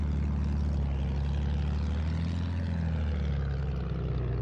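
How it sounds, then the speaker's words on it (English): A propeller plane in a PS4 game drones steadily and loudly the whole time with a low, even engine hum that never fades. No one speaks. "Slow the plane down."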